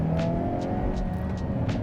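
A 2022 Hyundai Kona N compact crossover revving, its engine and exhaust giving a loud sustained drone with a steady low tone and a few sharp crackles on top, close by and without any talk.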